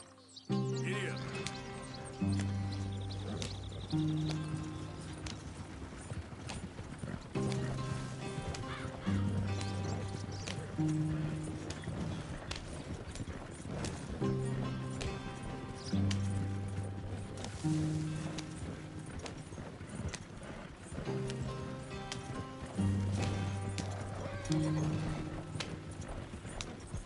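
A horse in Red Dead Redemption 2 clip-clops along in a steady repeating gait, with occasional neighs and whinnies. Game music plays throughout and stays loud alongside the hooves.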